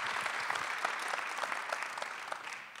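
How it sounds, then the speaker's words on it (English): Conference audience applauding, a dense, steady wash of many hands clapping in a hall, even and sustained without voices on top. "Could you please give a round of applause to Wilfred"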